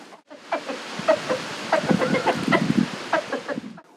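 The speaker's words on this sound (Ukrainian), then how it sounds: "Також у них є дев'ятеро курей і один півень." A flock of nine hens and a rooster clucking busily and continuously up close, a dense, chattering barnyard chorus with no one talking.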